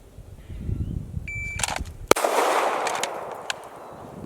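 A single sharp pistol shot cracks at a shooting range, followed by a brief ringing tail amid quieter background clatter.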